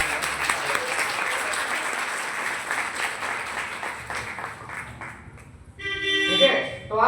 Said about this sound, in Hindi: एक बार जोरदार ताली आवाज के साथ।